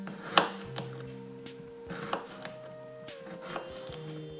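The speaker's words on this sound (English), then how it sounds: "I'm going to start by just cutting the carrot and the cucumber into slices." A knife cuts a carrot and a cucumber into thick slices on a board, with a few separate soft chops spaced over a quiet room background.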